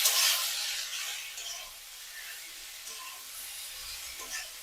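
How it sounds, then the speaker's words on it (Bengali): Potatoes frying in a pan, a close, steady sizzle with light stirring that holds throughout, no voices over it. "জামাইয়ের জন্য আলু ভাজছে"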